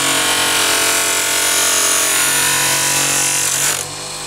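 An old knife edge grinds steadily on a power sharpener, a loud continuous whine and rasp held for about four seconds before easing slightly at the end.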